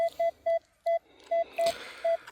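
A metal detector sweeping an old search field gives seven short, steady electronic beeps in an uneven rhythm, close and clear over faint background rustle.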